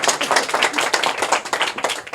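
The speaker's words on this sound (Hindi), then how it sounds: "जोरदार तालियां बजा दो" A crowd claps steadily and loudly at a gathering in Lunkarnsar, Rajasthan, dense overlapping hand claps filling the whole stretch with no voices.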